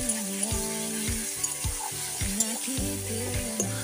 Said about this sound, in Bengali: আরও ভালো করে মশলাটা আমি কষিয়ে নিচ্ছি।